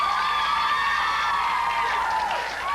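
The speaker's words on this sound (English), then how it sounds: "Let's have a nice round of applause for our clown kids coming down here." A TV studio audience claps and cheers for a group of clown kids, a steady wash of applause with whoops and children's voices, sustained and fairly loud throughout.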